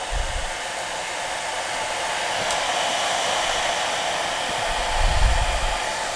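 A hair dryer set to low fan and medium heat, powered from a Bluetti EB70 portable power station, blows a close, steady airy roar for the whole stretch.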